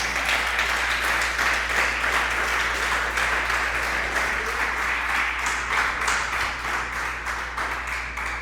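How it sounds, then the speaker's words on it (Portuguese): Steady congregation applause for Jesus at a morning church service, a sustained wash of clapping holding at an even level throughout over a low background hum. "Quem dá um aplauso a Jesus nessa manhã?"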